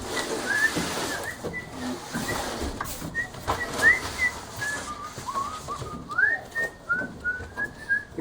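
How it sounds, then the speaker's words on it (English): A man whistles a well-known tune in short, clear, sliding notes, close by, over a faint room background. "You can't get in trouble with YouTube if I'm whistling a famous song."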